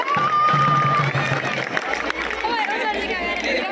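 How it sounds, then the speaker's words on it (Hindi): An audience at a Hindi school-style talk on avoiding plastic breaks into loud crowd noise with cheering and clapping mixed with chatter, a voice briefly sounding over the din. "जोरदार तालियां हो जाए इनके लिए।"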